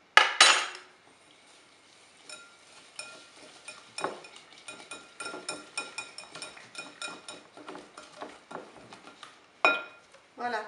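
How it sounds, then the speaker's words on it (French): A spoon clinks and scrapes in a bowl as milk powder is mixed into yogurt, with a loud clatter at the start, a run of quick rhythmic taps and scrapes, then a final clink, close and alone. "Je verse le lait en poudre dans mon yaourt et je vais commencer à mélanger déjà les deux appareils"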